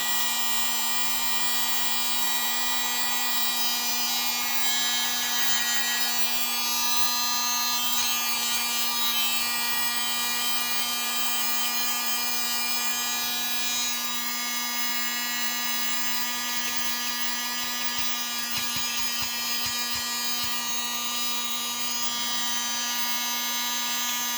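A small USB mini desk vacuum runs continuously with a steady, high-pitched motor whine and airy hiss, close and constant throughout with no talking.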